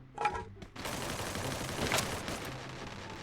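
Rapid automatic gunfire from the video game Free Fire rattles in a dense burst of shots after a brief opening pop, fairly quiet and continuous with no voices.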